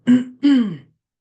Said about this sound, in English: You didn't need to see me cough.